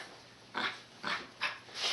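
Pet dog indoors making four short snuffling, grunting breaths in a loose rhythm, close and fairly quiet, with no talking.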